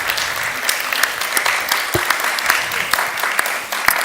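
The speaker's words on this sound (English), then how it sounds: "Give him a big applause." Audience applause at a live cryptocurrency event, steady clapping from a crowd with sharp individual claps standing out, fairly close and loud throughout.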